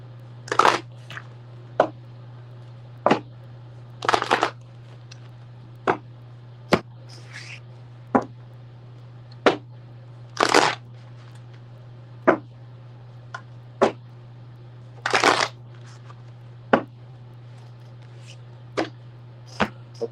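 Crisp riffling bursts of cards being shuffled, repeated at irregular intervals over a steady low electrical hum, with no talking.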